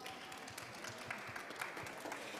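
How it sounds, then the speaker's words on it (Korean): Audience applause welcoming a student entrepreneur to the stage at a POSCO IMP youth startup program presentation event; steady, dense clapping from a crowd, moderately faint and continuous throughout. "여러분 큰 박수로 환영해 주세요."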